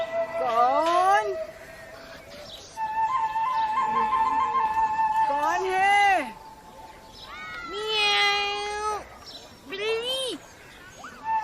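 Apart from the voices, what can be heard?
cat meowing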